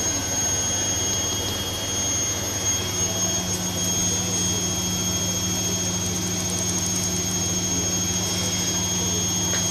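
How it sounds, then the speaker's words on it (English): A Bosch washing machine on its spin cycle gives a loud, steady high-pitched whine over a constant motor hum, running evenly without pause and without talk. "The first spin was okay, and this spin's okay."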